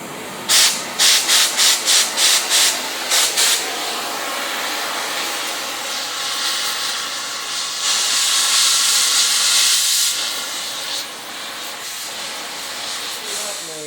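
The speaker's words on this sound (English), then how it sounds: "time to carve off some old welds" Old welds are cut off steel nursery tree forks over a concrete shop floor, a quick run of short hissing bursts followed by a longer, rushing, sputtering hiss that swells and fades, close by, with no talking.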